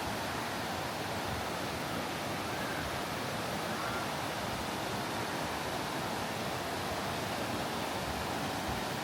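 Big Creek rushes beneath a trail bridge on the Baxter Creek Trail in the Smokies, a loud, dense, constant roar of whitewater that fills the whole stretch without pause.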